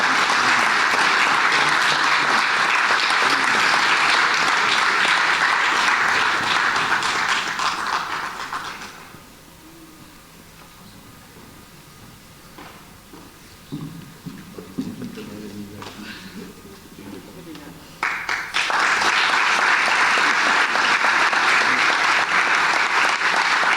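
A municipal anniversary audience applauds steadily as a worker is called to the stage. The loud, sustained clapping drops to a quieter stretch of scattered sounds midway, then swells back to full applause.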